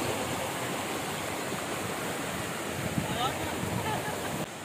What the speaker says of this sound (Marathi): या ठिकाणी पाण्याचा आवाज ऐका तुम्ही, किती सुंदर असा आवाज पाण्याचा येतोय।